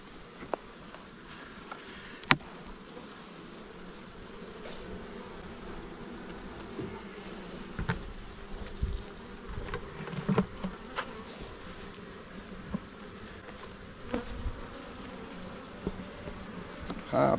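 Caucasian honeybees hum around an open hive during an inspection, a soft continuous drone with individual bees buzzing past close by, punctuated by occasional clicks and handling knocks.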